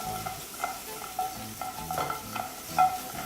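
Pineapple and green apple pieces sizzle in a hot pan while being stirred and tossed, with a steady frying hiss broken by periodic scraping clinks of the utensil.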